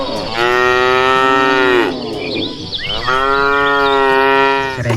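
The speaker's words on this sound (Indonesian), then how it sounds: "Wow, sapi limosin." Limousin cattle low in two long, loud, drawn-out moos close by, separated by a brief pause with a few faint high chirps between them.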